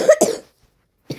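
A sick person coughs twice in quick succession, loud and close, followed by silence and the start of a third cough.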